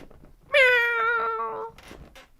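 A voice imitating a cat's meow, one long drawn-out nasal cry rising and then falling, close and clear, with faint room noise before and after.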